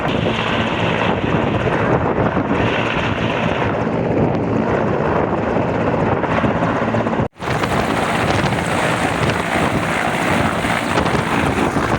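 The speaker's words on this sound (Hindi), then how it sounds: "ये आ गया हेलीकॉप्टर" A rescue helicopter arriving at an open field in Kalam roars loudly nearby, rotor noise and wind buffeting the microphone continuously, with a brief dropout partway through.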